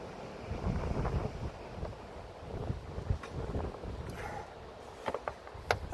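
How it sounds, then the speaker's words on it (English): Gusty outdoor wind buffeting a microphone on a blustery day in Wyoming, low rumbling blasts that rise and fall irregularly with a few sharper knocks, no voices over it. "Again, sorry about the wind, guys. This is gonna be one of these windy days here."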